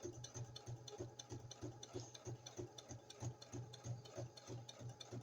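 A sewing machine stitches through a quilted junk journal cover with a steady, rapid, even mechanical hum and regular needle beats, close and continuous throughout.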